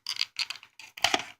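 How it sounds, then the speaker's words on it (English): Scissors snip through toy packaging in four short, close crisp cuts, the last one a bit heavier, with brief pauses between. "I just use the scissors on this."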